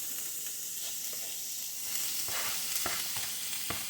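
Drained ground beef, vegetables and smoked sausage fry together in a pan with a continuous close sizzle and occasional soft stirring scrapes.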